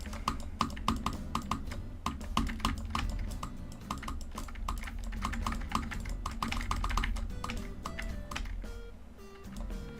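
Computer keyboard typing heard up close, with rapid bursts of sharp clicky keystrokes in irregular runs over a low background hum, and no talking.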